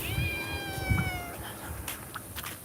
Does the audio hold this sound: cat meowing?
yes